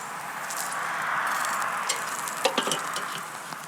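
Bacon sizzles on a grill over applewood for cheeseburgers, a steady close frying hiss with scattered crackles and small pops toward the end.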